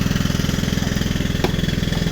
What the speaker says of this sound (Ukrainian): Там трактор завели.